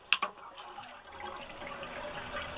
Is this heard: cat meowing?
no